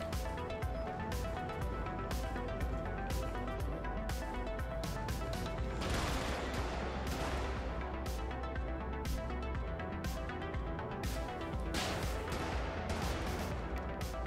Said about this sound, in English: chain gun's pretty effective